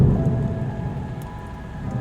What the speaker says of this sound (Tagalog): Bumuhos agad ang ulan na may kasamang malakas na hangin.